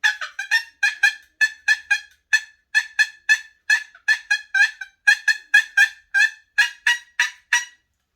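Rapid, sharp turkey box call imitating a cutting hen, about two dozen loud, raspy yelps in quick bursts with an uneven, excited rhythm, close by and without other sound.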